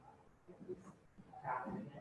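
Dogs bark and yip faintly at a distance in short, scattered bursts, mixed with quiet background talk.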